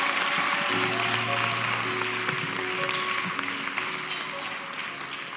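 A congregation at a church installation ceremony applauds and cheers in a steady wash of clapping, with a voice speaking over it before the applause gradually thins.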